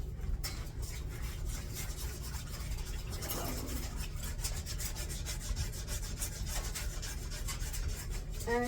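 A toilet is scrubbed to remove stains with a less abrasive pad, making continuous close rubbing and scraping strokes over a steady low hum, with no talking.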